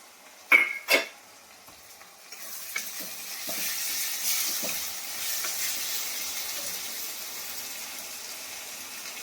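Chopped tomato tipped into a frying pan for a chicken chop recipe and stirred: two sharp clanks of a utensil against the pan, then a low steady sizzle with light scraping strokes.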